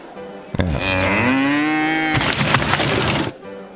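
A long, drawn-out cow moo with a rising then falling pitch, loud and close, breaking into a harsher, noisy bellow before stopping abruptly; no talk over it.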